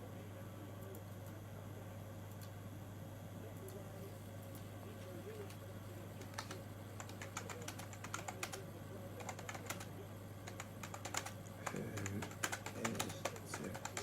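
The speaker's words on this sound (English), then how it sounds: "So even now, you see me typing," Someone types on a computer keyboard, a quiet, steady patter of clicks that grows denser and louder toward the end, over a constant low hum and with someone talking.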